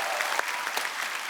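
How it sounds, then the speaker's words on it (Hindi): Studio audience applause on a Hindi comedy show, a short, dense, even burst of many hands clapping with no voices over it. "एक बार फरहान और अर्जुन के लिए जोरदार तालियां।"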